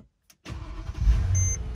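A Mercedes bought at auction catches after a short pause and settles into a steady idle that runs a little rough, close by with no talking.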